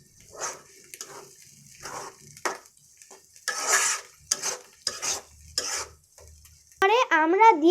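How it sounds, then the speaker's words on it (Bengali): Tamarind being stirred in a kadai (frying pan) while its water cooks off, heard as a run of separate scraping, rattling strokes with quiet gaps between them, ending in a short tonal, wavering sound. "এখন আমাদের নেড়ে চেড়ে পানিটা শুকিয়ে নিতে হবে।"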